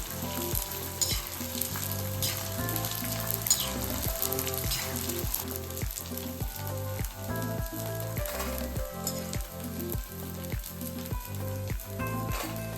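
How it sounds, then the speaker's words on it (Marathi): Edible gum (dink) pieces fry and puff in hot oil in a kadhai for dry-fruit laddoos, a loud, continuous close sizzle broken by rhythmic scraping strokes of a stirring spoon, with no voices. "डिंक आम्ही आता फ्राय करून घेतोय, छान पहा असा फुगलेला आहे डिंक तेलामध्ये"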